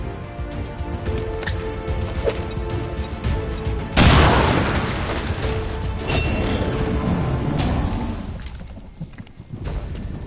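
A frag grenade goes off in a video game with a sudden loud broadband burst, followed by a few seconds of dense rumbling debris under ongoing game ambience, then a gradual decay.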